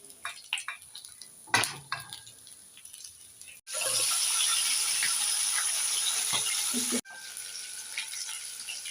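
Hot oil sizzles loudly and steadily as aar fish fry in a pan, close by, with clattering and handling noises before and after the sizzle.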